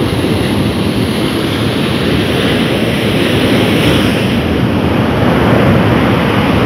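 Ocean surf at a beach in Klungkung, Bali, near the Pura Watu Klotok temple. It is a continuous, loud wash of breaking waves mixed with wind rumble, steady throughout with no voices.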